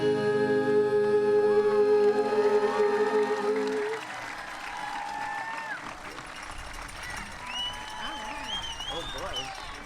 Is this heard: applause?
yes